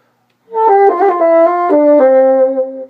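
A bassoon plays a short passage from Weissenborn etude no. 21 with the trilled note turned into a quick triplet ornament, legato and close, heard alone without speech.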